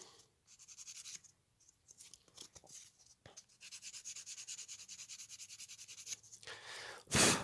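Hand sanding of a filled plastic droid part, quiet rhythmic rasping strokes in short bursts with pauses between, close and alone.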